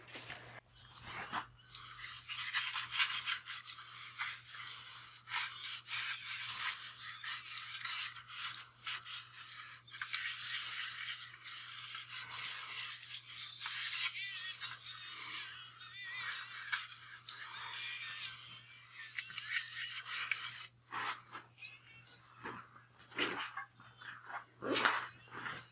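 A turned wooden bowl is sanded on a wood lathe, giving a continuous rough rubbing hiss that swells and fades as the paper moves. A steady low hum runs underneath and a few louder scuffs come near the end.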